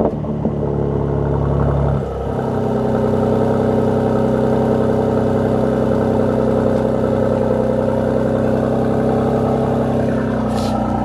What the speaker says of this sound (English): give y'all a little warm start with open.